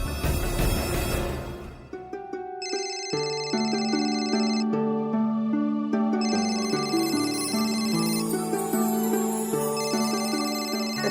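Telephone ringtone playing as a melodic electronic tune with repeated bright tones, steady and clear after a short noisy opening, no talking over it.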